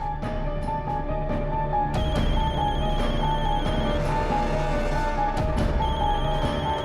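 A telephone rings repeatedly in an electronic ringtone pattern over a dense, loud background of hum and noise.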